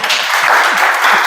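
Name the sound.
welcome applause from audience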